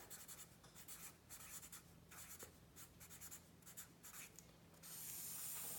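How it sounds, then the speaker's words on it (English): Pen or pencil writing on paper, soft and close, with continuous scratchy strokes and brief pauses between words, a quiet sound heard alone, ending in a brighter rustle. "I'm going to write the year at the top just so I know what year"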